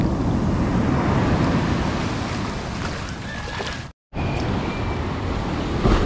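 Large ocean waves crash and roll continuously on a stormy sea where fishing boats cannot go out, a dense, loud rumble mixed with wind noise on the microphone, broken by one brief dropout.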